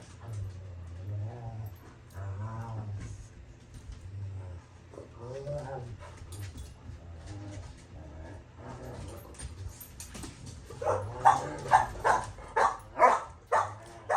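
Dogs bark in a quiet indoor room, with faint intermittent woofs and whimpers that build to a louder, closer burst of repeated barking near the end.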